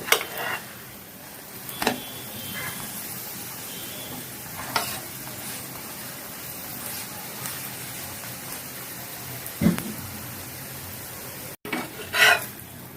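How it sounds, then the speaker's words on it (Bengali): Aloo paratha fries in oil on a pan with a soft, continuous sizzle, broken by a few louder clicks and scrapes from turning. "দুই পাশেই ভালোভাবে ভাজা হয়েছে।"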